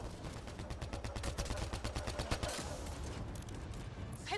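Gunfire in the video game Mass Effect Andromeda, a steady stream of rapid automatic shots pulsing evenly for a few seconds before trailing off, moderately loud and close with no voices.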